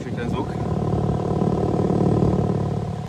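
BMW M3 Competition Touring, 510 horsepower with a six-cylinder engine and stock exhaust tips, idles with a steady deep rumble close by, while someone talks over it throughout.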